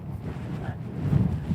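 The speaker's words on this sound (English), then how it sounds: "It's super windy" Strong wind sweeping a high mountain campsite near Colony Lakes and the Crestones at dusk, a dense low roar battering the microphone with slight gusting swells.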